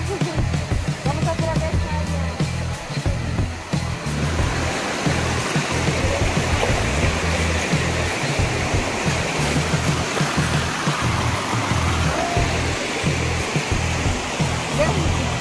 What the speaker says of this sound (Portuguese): A água de cachoeira é incrível, né?